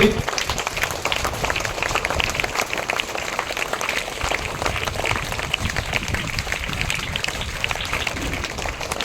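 An audience at a school assembly gives young nursery and kindergarten pupils a sustained round of applause, dense and steady with a low rumble of crowd noise beneath.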